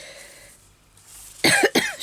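After a quiet moment, a person coughs twice in quick succession, loud and close.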